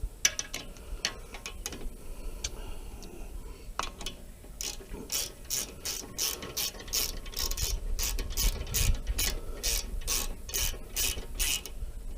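Ratchet wrench working on the rear brakes of an Audi SQ5: a close, steady run of rapid ratcheting clicks that quickens into a regular rhythm through the second half, with scraping metal handling at the start and no talk.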